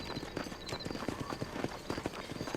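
Horse hooves clip-clop steadily in the Western video game Red Dead Redemption, a dense, continuous rhythm of overlapping hoofbeats from several horses amid town ambience.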